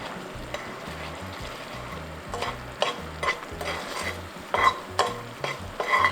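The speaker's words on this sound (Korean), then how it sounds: "전체적으로 점선이 생길 때까지 끓여줍니다." Raw sugar mixture boiling in a pan for Korean gangjeong sweets, stirred in repeated scraping strokes over a steady low bubbling, with louder clinks and scrapes toward the end.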